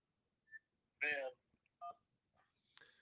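Telephone keypad dialing tones sound on a call-in phone line, a few short separate beeps and tone bursts with brief gaps, fairly quiet and with no talking.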